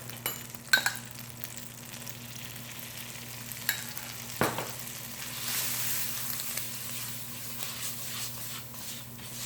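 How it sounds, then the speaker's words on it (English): Flour is stirred into butter and olive oil in a hot skillet, a soft steady sizzle under scraping stir strokes and a few sharp clinks of utensil on pan. "we're gonna stir in a little bit of flour"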